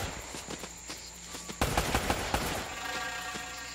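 Enemy gunfire aimed at the player in Uncharted: Drake's Fortune, scattered sharp shots and a dense crackling volley midway, mixed with game ambience and clattering movement.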